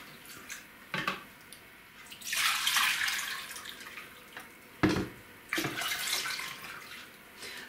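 Cold tap water pours into a two-litre jug in two short splashing bursts, close by, with quiet handling clatter between them.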